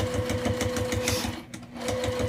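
A sewing machine stitching a fabric wristlet, a steady rapid mechanical whir with even needle pulses and a brief slowdown mid-run, close and alone.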